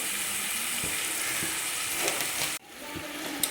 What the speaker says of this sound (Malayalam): ഇത് ഇടയ്ക്കിടയ്ക്ക് ഇളക്കി കൊടുത്തുകൊണ്ടിരിക്കണം ഇല്ലെങ്കിൽ അടിയിൽ പിടിക്കും